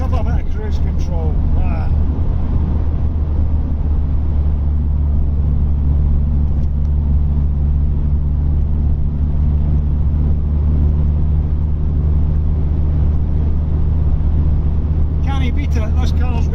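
A Vauxhall Cavalier cruises along the road on cruise control, a steady low engine and road drone that stays constant throughout, with brief talk near the start and end.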